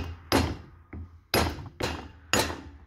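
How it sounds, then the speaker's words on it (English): Four sharp, solid rubber-hammer taps on a turbo shaft during a journal-bearing turbo rebuild, at uneven intervals, with a faint light knock between the first two; close and clear, no talking. "you're gonna tap the shaft with a rubber hammer"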